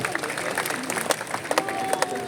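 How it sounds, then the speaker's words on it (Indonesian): Audience applause at the opening of the Bali Arts Festival in the evening, a crowd clapping steadily with scattered cheers for local craft and small-business exhibitors, under a presenter's amplified voice. "Tepuk tangan untuk IKM dan UMKM kita"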